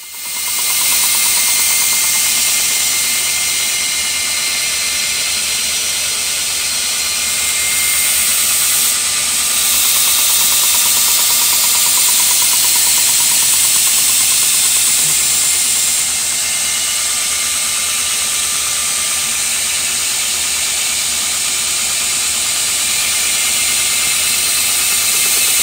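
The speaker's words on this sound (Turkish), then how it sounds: "Şimdi bıçağın kesici ağzını açmak için yeniden bant zımparada" A belt sander grinds the cutting edge of a forged 90-layer Damascus steel knife, a loud continuous abrasive whine with a steady motor hum, running without pause and with no talk.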